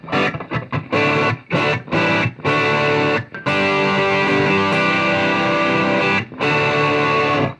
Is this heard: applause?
no